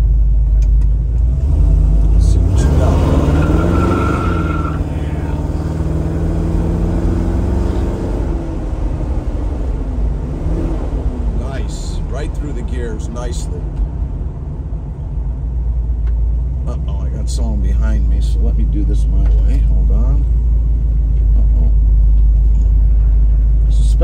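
A 1966 Chevrolet Chevelle with a 396 V8 pulls away from a warehouse, its deep engine rumble steady and loud throughout, rising and falling as it drives off with no voices.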